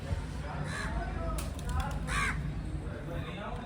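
Crows caw outdoors several times in short, harsh bursts at moderate distance, mixed with a murmur of voices and background clatter.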